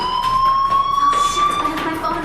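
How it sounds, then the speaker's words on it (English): A shrill electronic fire alarm rings continuously inside a school setting in the video game Life Is Strange, a steady tone with pulsing overtones running under a speaking voice. "Hey, do you hear that fire alarm?"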